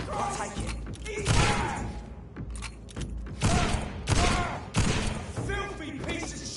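Ragged volleys of gunfire and heavy thumps in the vampire game Vampyr, several loud bursts spaced irregularly across the scene, mixed with voices shouting over the shots.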